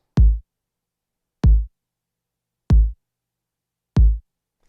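Sparse drum loop playing alone in Logic Pro, four identical punchy kick-like hits spaced evenly about 1.3 seconds apart with silence between, close and dry.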